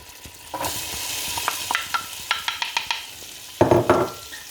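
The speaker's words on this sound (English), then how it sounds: "And then, I'm going to put the onions in." Onions are tipped into hot oil in a pan for a vegan sweet potato curry, with a thumb-sized piece of ginger already in. A sudden loud sizzle is followed by a quick run of close scraping stirs, then a second burst of frying.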